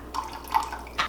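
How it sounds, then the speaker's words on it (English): Apple cider vinegar pours into a dish in two or three short, soft liquid splashes and drips, close and fairly quiet, with no voices. "I'm going to put a little bit of apple cider vinegar in there."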